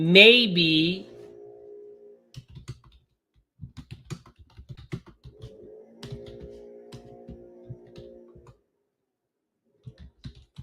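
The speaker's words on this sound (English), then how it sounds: "Look what I'm typing." Someone types on a computer keyboard in irregular bursts of quick clicks, with a voice breaking in at the start and intermittent low background noise.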